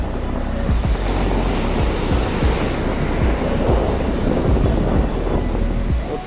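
Surf on a beach near Tangalla on the south coast of Sri Lanka, with steady loud waves washing and rumbling in close, wind buffeting the microphone throughout and no voices.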